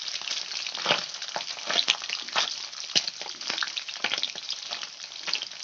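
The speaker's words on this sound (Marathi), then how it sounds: "अशा पद्धतीने आपला सर्व पनीर तळून घ्यायचं आहे" Paneer cubes fry in hot oil in a pan, giving a steady, close sizzle with small crackling pops throughout and no talking.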